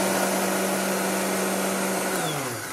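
A blender grinds ingredients for a frozen treat in a loud, steady motor whir that holds for a couple of seconds, then spins down with falling pitch at the end.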